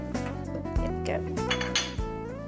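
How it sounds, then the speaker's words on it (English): A wire whisk clinks and scrapes against a bowl while beating red velvet cake batter, sharp metallic taps recurring irregularly about every half second over a ringing resonance, close and fairly loud. "And just use a wire whisk. Just whisk through, not too much."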